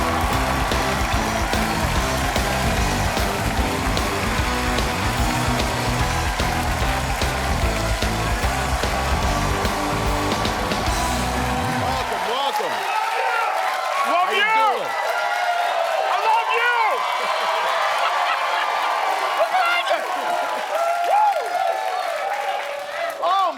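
A large studio audience on a talk show welcomes a guest with loud, sustained applause and cheering that washes over the first half, then fades as speech takes over.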